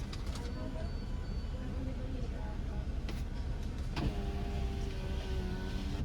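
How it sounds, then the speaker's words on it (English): A car's electric power window hums as it closes, a steady motor whir partway through, over engine and road noise inside the vehicle. "let me close the window so these people don't hear me"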